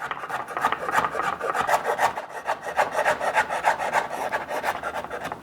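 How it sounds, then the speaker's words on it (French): Garlic being finely minced for guacamole, a dense steady rasping and scraping of a knife on a cutting board with quick repeated strokes, close and alone with no talking. "nous allons aussi couper l'ail, l'émincer le plus possible"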